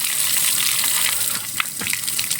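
Water gushes out in a strong, steady rush at a construction site for a front stairway, loud and close, with a few brief splashes near the end and no speech.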